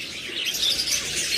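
New adult cockatiels in a bird seller's cages chirp in a steady, busy chatter of high, overlapping tweets, close and moderately loud with no talking.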